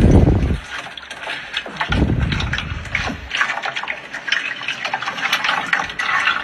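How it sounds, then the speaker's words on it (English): Liquid pours out of a measuring cup in a few splashing gushes, close and fairly loud, followed by softer trickling and dribbles. "There's a right way and a wrong way to pour out of a measuring cup."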